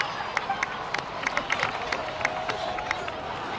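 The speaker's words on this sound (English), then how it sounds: "please give another round of applause for them" Scattered crowd clapping and light cheering in the Genshin Impact game, sparse uneven claps over a soft murmur of voices, fairly quiet and brief.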